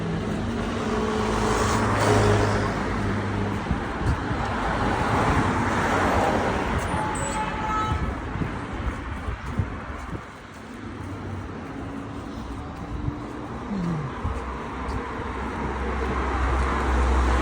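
Buses and other road traffic pass along a busy street near Patni Bridge, a continuous mix of engine rumble and tire roar that swells and fades as vehicles go by, with no talking.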